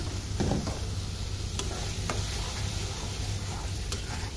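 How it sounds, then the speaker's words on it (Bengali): Spice masala with tomato paste, coriander powder added, frying and being stirred in a pan for a fish curry: a steady low sizzle with occasional soft scrapes and light ticks of the spoon, close and continuous with no talk. "এবার এগুলোকে ভালোভাবে কষিয়ে নিব। দেখুন মশলাটা আমি কত ভালোভাবে কষিয়ে নিচ্ছি।"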